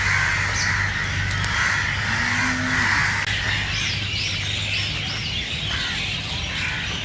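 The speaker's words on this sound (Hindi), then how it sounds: "ऊपर ये देख कौवे कितने देख" Crows cawing amid peepal trees outdoors, harsh calls scattered through a constant noisy background hum, fairly distant and partly masked, with no clear talking.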